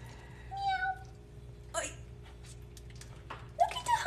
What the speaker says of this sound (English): There's Honey our cat.